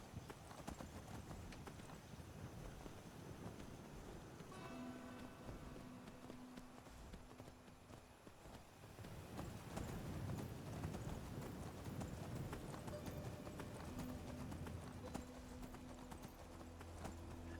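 Horse hooves clip-clop steadily in the video game Skyrim, a quiet, regular trotting rhythm over a low ambient game soundscape, with no talking.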